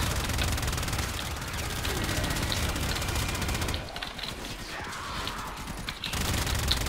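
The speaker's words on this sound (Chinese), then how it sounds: "这把枪个人觉得用起来是还不错用啦，但是唯一的缺点就是它没有爆炸，它就是传统型的枪，就是我必须要一发一发去打" Phenmor rifle in the video game Warframe fires rapid, repeated shots in quick bursts, punchy and continuous over busy game effects, with a brief lull partway through.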